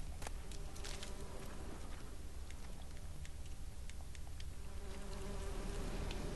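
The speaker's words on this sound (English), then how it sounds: "Oh, bees." Buzzing bees in The Witcher 3: Wild Hunt, a steady dense insect drone with faint ticking game sounds, continuous and moderately loud with no talking.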